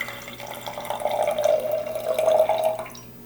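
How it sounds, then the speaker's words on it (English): Water poured slowly from one cup into a second cup, a steady trickling splash that swells and holds for a few seconds before thinning out, heard up close with no talking. "So you want to hear the water, you want to watch the water fall"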